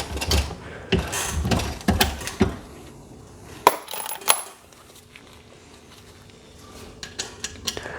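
An RCBS small base die on a Rock Chucker press resizes Lake City brass: close metallic clanks and clicks in bursts, then a quieter stretch with light mechanical rattles.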